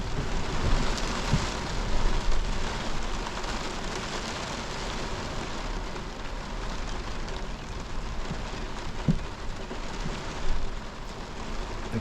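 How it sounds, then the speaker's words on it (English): Steady rain drums on a truck during a severe thunderstorm, a dense continuous patter filling the clip with no voices. "The rain gets you sometimes,"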